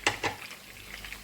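Gola kababs fry in oil in a frying pan, a soft steady sizzle with two quick clinks of a utensil at the start.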